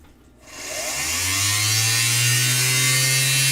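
A power drill bites into a stone while it is dipped in water to stay cool, the motor spinning up from quiet into a loud, steady high whine that holds close and continuous.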